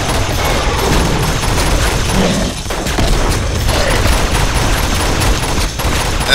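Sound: gunfire in video game Uncharted 2

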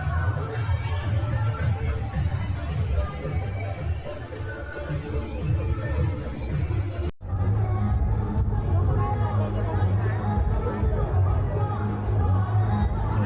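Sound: growing evening crowd chatter at Godakath festival stall

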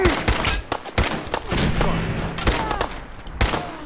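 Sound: gunfire in the video game Fallout 4

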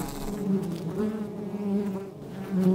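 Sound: European honey bees buzzing

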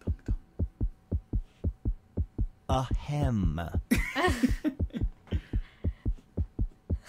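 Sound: heartbeat sound effect from the video game Bidiots

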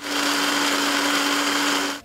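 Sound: blender grinding soybeans

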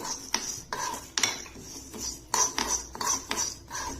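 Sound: stirring fenugreek seeds and curry leaves roasting in pan

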